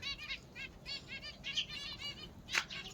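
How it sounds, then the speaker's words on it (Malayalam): Small pet finches in a cage give quick, bright chirps in a busy run, with soft fluttering of wings and one sharper burst near the end, fairly faint and without voices. "കുറെ കുഞ്ഞു കിളികളല്ലേ? ഇതിനെ പറയും ഫിഞ്ചസ്."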